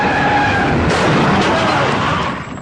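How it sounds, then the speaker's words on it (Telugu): Two cars racing toward each other at high speed in a film scene, tires screeching into a skid just before they collide; a loud, continuous squealing roar that fades slightly at the end. "2 కార్లు విపరీతమైన స్పీడ్ లో వస్తున్నాయి."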